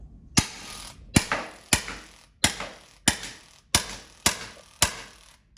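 Drozd BB pistol powered by a compressed air cylinder, set to single-shot mode, firing seven sharp, close cracks spaced about two-thirds of a second apart, each with a short mechanical rattle after it.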